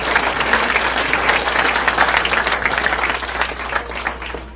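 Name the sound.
audience applause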